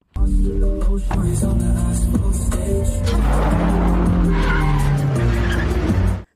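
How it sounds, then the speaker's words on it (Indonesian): A car speeds along a road in a film scene, its engine roaring loudly with sustained tire squeals and skidding throughout, close and intense. "Rose menyuruh Mada yang menyetir dan mengebut di jalanan."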